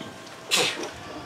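A single short, sharp sneeze from someone in the audience at an outdoor vegan garden party talk, heard fairly close against a quiet background.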